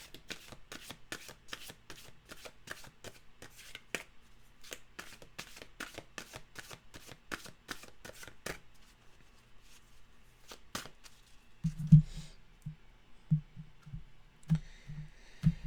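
A deck of mantra cards being shuffled nearby, a quick run of crisp, evenly spaced riffling clicks, followed by a pause and then a few soft, dull taps as the cards are handled.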